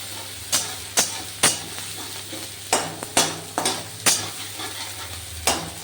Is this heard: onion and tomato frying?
yes